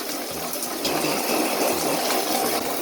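Water runs steadily from a tap while a pan is washed by hand in a home kitchen, a continuous close rushing hiss throughout with no voices.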